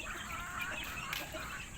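A fowl from a gamecock bloodline clucks faintly in the distance a few times against low outdoor background noise, with no talk.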